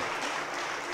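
Church congregation applauding: a steady, dense wash of many hands clapping, brief and even, with no gaps.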